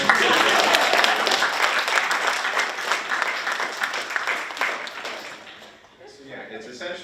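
A research symposium audience claps in dense, steady applause that holds for about five seconds, then thins out and fades while a voice talks over it.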